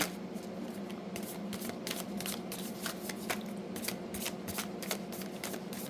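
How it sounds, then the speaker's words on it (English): A deck of reading cards is shuffled by hand in a quiet room, a steady run of crisp riffling flutters and soft slaps lasting several seconds. "I'm going to give it one more shuffle to see if anything else pops out for Gemini."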